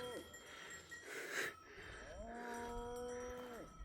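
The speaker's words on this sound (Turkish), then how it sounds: "Antik kentte gezintiye gelmiş inekler." Cows lowing outdoors among the ancient ruins at Büyükkale in Çorum, Turkey, a couple of long drawn-out moos rising and falling over a soft background rustle.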